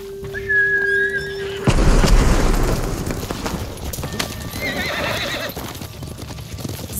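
Horses in the Ghost of Tsushima game whinny and then break into a gallop, with pounding hoofbeats and heavy rumbling, booms and a faint voice mixed in as the riders set off.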